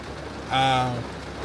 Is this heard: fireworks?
no